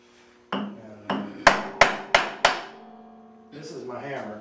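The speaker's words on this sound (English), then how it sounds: "This is my hammer." Six sharp hammer blows strike in a slowing series during woodturning of a lidded box, each a loud close crack with a ringing decay, followed by a brief muffled knock or voice at the end.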